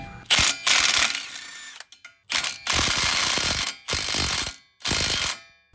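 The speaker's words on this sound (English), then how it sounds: "we're gonna take these bolts here out, or the nuts anyway, but we're gonna leave the bolts in it" A ratchet loosens suspension nuts on a Ford Escape in loud, close bursts of rapid clicking, four or five separate runs broken by brief pauses.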